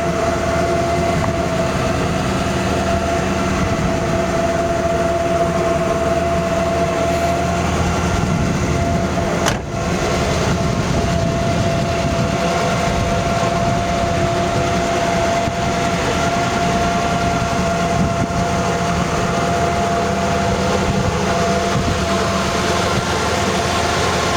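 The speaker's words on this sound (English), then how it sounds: "It's running a little, idling a little high." Classic car with original seats and carpet, its engine idling slightly high, producing a steady, unbroken mechanical drone that holds at constant loudness throughout, with no voices.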